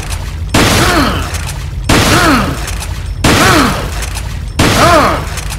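Four heavy shotgun blasts in Resident Evil 4, each a loud close boom with a ringing tail, evenly spaced about a second apart with quiet gaps between.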